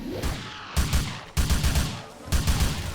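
Gunfire in the video game Grand Theft Auto IV comes as three loud, close, rapid bursts over about three seconds, separated by brief gaps filled with a rumbling background.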